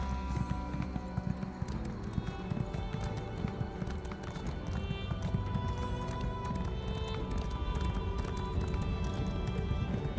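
A horse mount gallops in the video game Elder Scrolls Online, with rapid, steady hoofbeats running continuously throughout, loud and close, over faint background game sound.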